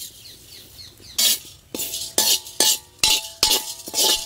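Chana dal and coriander seeds dry-roasting in a pan for sambar powder make bursts of rattling, scraping stirs, rhythmic and close, with quiet pauses between them and no speech.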